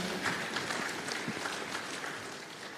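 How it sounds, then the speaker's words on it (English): Applause from the audience at a diaspora conference welcome reception in Jamaica, a steady wash of clapping from a crowd that stays even throughout. "Can I get a round of applause?"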